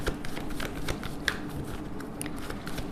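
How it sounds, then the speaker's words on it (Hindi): Tarot cards from the Major Arcana deck are shuffled and drawn by hand, giving a steady run of soft papery flicks and light taps at close range, with no talking. "सबसे पहले will take 5 cards from major arcana"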